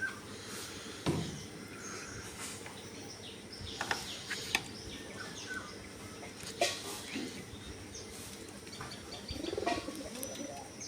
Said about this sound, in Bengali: এখন কবুতর সারবো দেখতে থাকুন